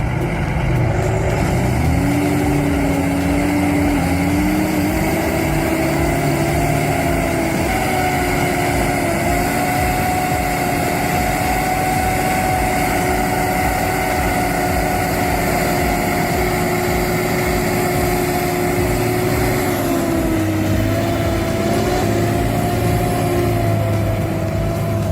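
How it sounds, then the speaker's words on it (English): A K701 tractor's diesel engine drones steadily for the whole stretch as it drags a John Deere 8410T out of deep mud, a loud, sustained tone that dips and rises slightly in pitch near the end. "the K701 drags a John Deere 8410T out of deep mud"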